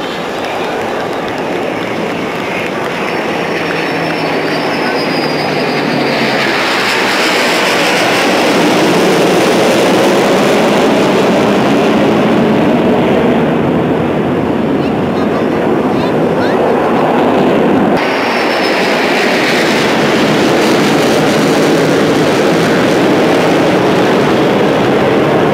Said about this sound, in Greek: Απολαύστε αυτόν τον heavy σχηματισμό μεταξύ πολεμικής και πολιτικής αεροπορίας.